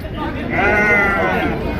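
Sheep bleat loudly at a sheep and goat market fair, one drawn-out wavering bleat rising over a busy background of people chattering and crowd noise.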